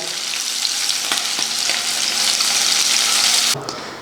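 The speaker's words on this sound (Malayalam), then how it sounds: "ഒരു പാനിൽ എണ്ണ ചൂടായിട്ടുണ്ട് നമുക്ക് ഈ മാരിനേറ്റ് ചെയ്ത് വെച്ച മത്തി വറുത്തെടുക്കാം" Loud, dense sizzling of marinated sardines frying in hot oil, steady and close, dropping off abruptly near the end.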